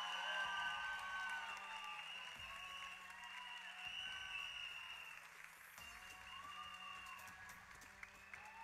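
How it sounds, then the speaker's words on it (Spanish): Faint, steady audience applause at the Miss Earth Puerto Rico 2023 beauty pageant, heard from a distance alongside sustained tonal music, with no clear talk. "Para quien pido un fuerte aplauso"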